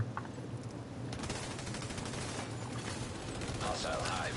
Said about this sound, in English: Somebody got a mortar on right now.